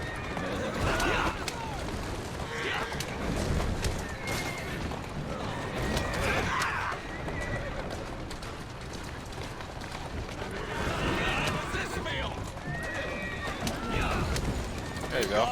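A carriage horse galloping with rapid hoofbeats and a neigh in the video game Assassin's Creed Syndicate, mixed with wind and voices talking over it.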